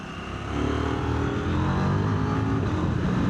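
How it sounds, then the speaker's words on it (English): 2026 KTM 990 RC R motorcycle on a road ride, a loud, rough, steady engine note with crackle and burble from the exhaust, close onboard with wind rush. "the popping and burbling, what's going on every time I shut the throttle"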